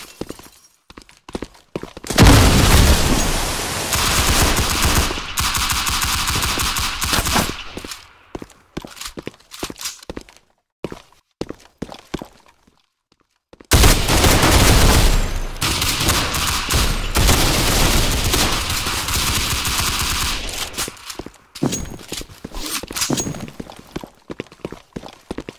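Sustained bursts of rapid gunfire fill a competitive online shooter round, loud and close, broken by a brief silent gap midway before firing resumes with scattered clicks and footsteps.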